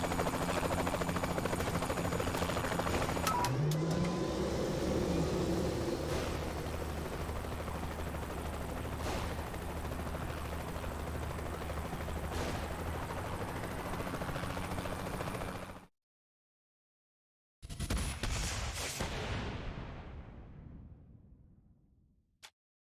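A helicopter in the action video game Arkatech, during an explosives-disarming mission, its rotor roar dense and steady amid gunfire-like bursts for about sixteen seconds, then a sudden cut and a brief loud return that fades away.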